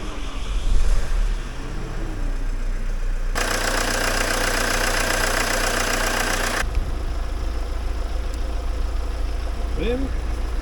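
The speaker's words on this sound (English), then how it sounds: "Before I put the front of the van on, I better put the battery back on, get it started" A van engine, freshly fitted with a new auxiliary belt, runs at a steady rumbling idle after starting, with a loud broadband whirring stretch in the middle and a voice speaking briefly near the end.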